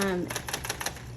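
A Smith Corona Coronet Coronomatic typewriter clicks rapidly through a series of about six evenly spaced mechanical taps and ratchets as the carriage advances to the next line, close and clear, just after a brief voiced sound.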